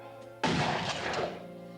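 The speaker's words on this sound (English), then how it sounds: "Then I heard a gunshot." A single sharp, loud gunshot sound effect bursts out after a quiet moment and then rings and decays over about a second, alone with no talk.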